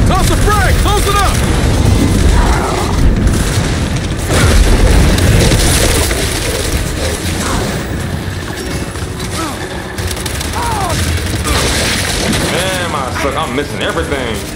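Frag grenade booms and steady gunfire from the video game Gears 5 form a loud, dense, continuous battle din, with voices shouting over it throughout.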